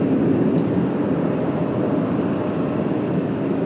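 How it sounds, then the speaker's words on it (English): Boeing 787 Dreamliner from Barcelona at Washington Dulles on a cloudy day, a loud, steady broadband jet roar that holds evenly throughout with no pauses. "first, the Dreamliner from Barcelona"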